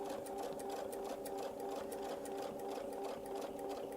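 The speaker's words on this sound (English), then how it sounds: "I'm going to sew my first arc" A sewing machine runs continuously and loudly as it stitches an arc of a miniature feathered Baptist fan quilt, its rapid even needle rhythm holding steady throughout with no talk.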